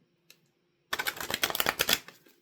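A deck of Native Spirit Oracle cards is riffled and shuffled by hand, close up, giving a dense rapid burst of papery clicks and flutters after a brief faint tap, with no talking.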